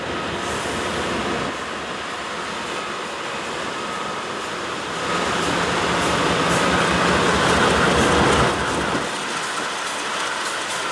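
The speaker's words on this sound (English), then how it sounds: "BNSF 966 and 5331 were shunting the yard" BNSF locomotives 966 and 5331 shunting in a rail yard, a steady, loud rumble with clattering wheel noise that swells briefly midway, continuous and fairly close throughout.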